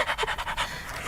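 A person imitates a dog panting, a quick run of rhythmic breathy huffs heard close up and fairly loud, with no talk over it.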